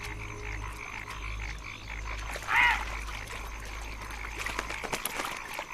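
Frogs croak in a Southwest China wetland, a steady chorus of trilling calls with one loud nearby croak standing out, over a low constant hum and a busy natural background.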